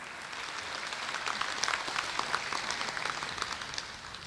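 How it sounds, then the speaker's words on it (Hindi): An audience at a birth centenary function for the late Girdhari Lal Dogra, attended by the Prime Minister, gives Pandit ji a round of applause: dense, steady clapping from many hands, fairly close and sustained without a break. "एक बार ज़ोरदार तालियां हो जाएं पंडित जी के लिए"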